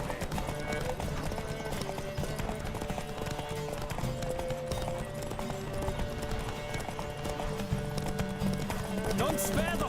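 Rapid rhythmic hoofbeats of a galloping horse in a race in The Witcher 3: Wild Hunt pound steadily, close and busy, with voices talking over them.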